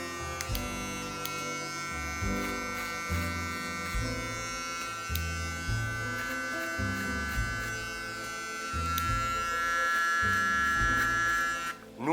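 A Panasonic beard trimmer buzzes steadily while cutting a full beard, its motor tone shifting in pitch and loudness in repeated short strokes as it passes through the hair, close and continuous throughout.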